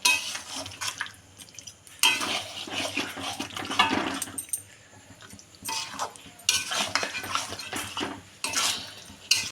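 Mutton being sautéed in its own juices and stirred in a pot, with bursts of loud scraping and clattering spoon strokes against metal over a wet sizzle, separated by quieter pauses, close and without talk.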